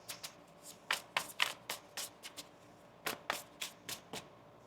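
A tarot card deck is shuffled by hand in crisp riffling bursts, two clusters of rapid flicks separated by a brief pause, close and clear in a quiet room.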